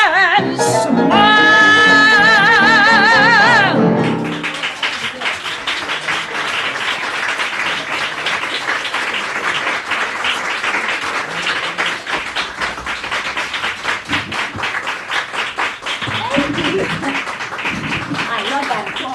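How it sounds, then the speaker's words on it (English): After a sung show tune ends on a held note with piano, an audience bursts into sustained applause, dense clapping that carries on strongly and then gradually thins. "I love that applause."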